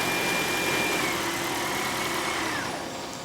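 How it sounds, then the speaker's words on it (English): A Toyota Prius (2016-2022 generation) engine running with a steady mid-low hum, then fading as it shuts off near the end, recorded close with no talking. "So you can see the engine shut off."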